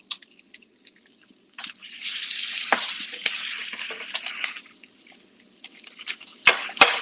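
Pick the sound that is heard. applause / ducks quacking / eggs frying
eggs frying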